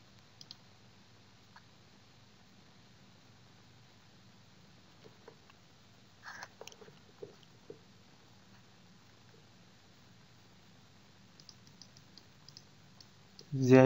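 A computer mouse clicks a few times, faint and sparse, with single and double clicks scattered over a quiet room background while a PC is used to install software.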